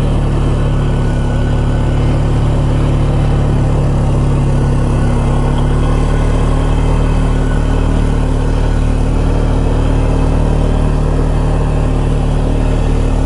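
A four-wheel-drive vehicle in four-wheel low crawls off-road through Mark Twain National Forest, its engine a steady, close, low drone that holds through the whole stretch with no talking.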